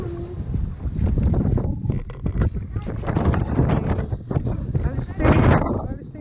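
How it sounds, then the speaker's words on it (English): Wind buffeting the microphone with rain in Iceland, a steady rough roar with gusts swelling and fading throughout, close and loud. "It's raining and it's windy."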